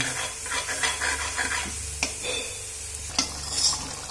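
A spoon stirs curd-based masala gravy for an ivy gourd curry in a pan, giving soft scraping strokes and occasional clinks over a low, steady sizzle, close and fairly quiet.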